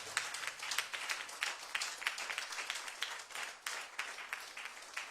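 A church congregation at a Sunday praise service claps in a quick, rhythmic pattern, many hands striking in sharp repeated bursts, fairly faint and distant, with no talk.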